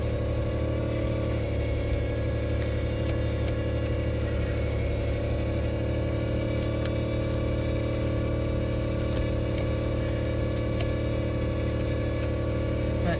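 A vehicle engine with converted manual hubs idles and revs steadily up close in 4 low, its rumble continuous and loud throughout with no pauses.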